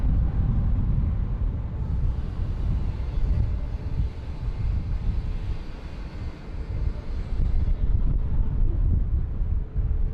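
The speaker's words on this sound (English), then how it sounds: "It is beginning to be a little gusty in terms of wind" Steady gusty wind at Bangkok airport buffets the microphone as a low, continuous roar with a distant aircraft engine rumble underneath, loud and unbroken throughout, no voices.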